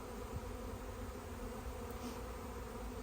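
Honeybees buzz in a dense, steady drone around a hive as workers fan, a constant close hum with no pauses and no voices.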